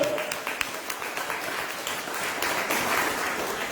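Congregation applause during a church sermon, a moderate, fairly steady patter of many hands clapping throughout, slightly distant and building a little toward the end.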